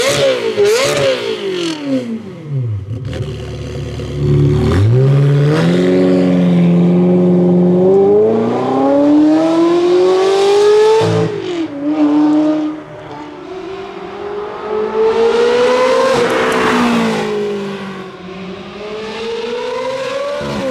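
A Ferrari 360 with a Capristo Stage 3 sport exhaust revving loudly up and down, the exhaust roaring and rising in pitch across repeated throttle blips, close and continuous with no talking.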